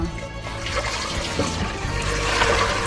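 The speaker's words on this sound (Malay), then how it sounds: "mula kita masukkan air dulu" Water poured steadily into a cooking pot while preparing sago: a continuous, fairly loud splashing and gushing that fills the whole stretch with no pauses and no voices over it.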